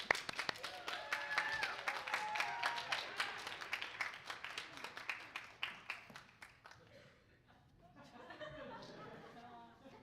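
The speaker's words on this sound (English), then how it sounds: "you can clap for them as well" An audience at a band honors night claps loudly in a dense burst of applause for about six seconds, then thins to scattered claps beneath murmuring crowd chatter.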